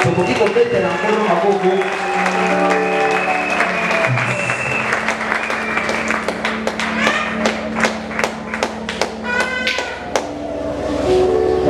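A church congregation applauds and cheers in praise of the Lord, loud sustained clapping with scattered sharp claps and voices mixed throughout.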